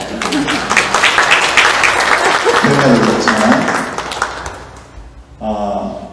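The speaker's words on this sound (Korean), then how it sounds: "박수 한번." A church congregation at an early-morning prayer meeting applauds, a loud burst of many hands with voices mixed in that fades out, then a speaking voice returns at the end.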